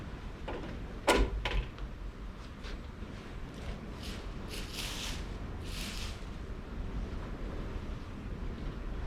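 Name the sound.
gusty wind outdoors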